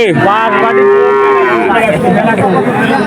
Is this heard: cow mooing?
yes